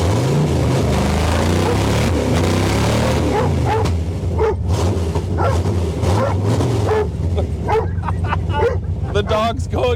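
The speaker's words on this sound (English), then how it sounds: "The dog's going crazy." A dog barks and yips excitedly beside a freshly started 1968 Camaro that sat unused since 1999; the engine's low rumble drones throughout while the barking gets sharper and more frequent in the second half.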